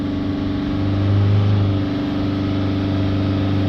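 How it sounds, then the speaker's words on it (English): Peugeot Boxer 2.0 diesel engine, with a fault logged for oil burning and oil dilution, held steady at about 3000 RPM; a sustained, even droning hum with strong steady tones and a slight swell partway through, no voices. "hold the revs up at 3000"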